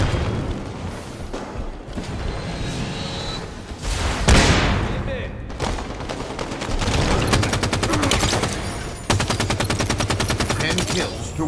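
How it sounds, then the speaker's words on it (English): Enemy gunfire in Halo 5 multiplayer crackles in rapid automatic bursts and booming shots, loud and dense, with game sounds layered throughout. "Watch the enemy fire!"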